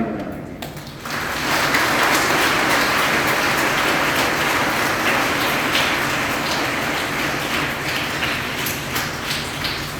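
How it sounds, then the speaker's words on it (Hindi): A congregation claps loudly at a deacon ordination service, a thick, steady swell of many hands that rises after a quieter first second and then holds at a constant roar, close and unbroken. "जोर से ताली बजा देंगे।"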